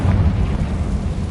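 A Confringo fire blast spell cast in Hogwarts Legacy, a short, loud, low rumbling burst like a fiery explosion that rolls out and fades over about a second, with no voices.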